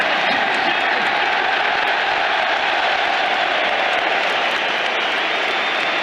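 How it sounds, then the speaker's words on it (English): Dense roar of a football stadium crowd cheering a Harry Kane goal for Tottenham against Manchester City in the Premier League, a steady, loud wash of voices and applause filling the whole stretch. "There is the cheer for Harry Kane."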